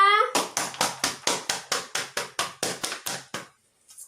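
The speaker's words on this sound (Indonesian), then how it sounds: "Oke, tepuk tangan untuk kita semua." A classroom of pupils clapping hands together in a quick, even rhythm of about a dozen sharp claps, close and loud, ending abruptly before a brief silence and a voice starting.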